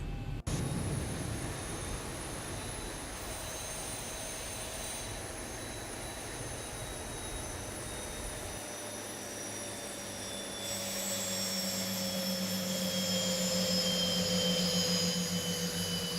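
Jet engines of a China Southern Boeing 737-800 in the X-Plane 11 flight simulator whine steadily, their tones slowly shifting as they spool, with a deeper rumble building up in the second half.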